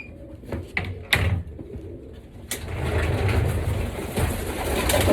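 Pigeons in a breeding loft give soft, low cooing throughout, with a few sharp knocks and a door-like bang early on, and a denser, louder cooing chorus building in the second half.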